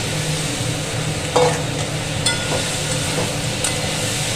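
Gram flour fritters and boiled potatoes go into a sizzling pan of Bengali curry, a steady frying hiss with a few soft stirring clatters and light knocks against the pan, close and continuous with no talking.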